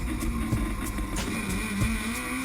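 Mad Mike's drift car engine revs at a distance, a steady droning motor with rising and falling pitch sweeps over a constant roar.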